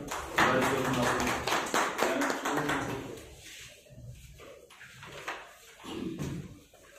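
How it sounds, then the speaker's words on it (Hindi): A hall audience gives a loud burst of applause for a speaker called to the dais at a Sadbhawana Diwas gathering. The steady clapping lasts about three seconds, then fades to quieter room sounds and a voice. "आबिद अंसारी जी के लिए जोरदार तालियां"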